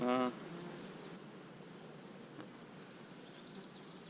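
Honey bees hum in a faint, steady background drone around an open hive during an inspection, with a brief louder buzz at the start and soft bee noise continuing to the end.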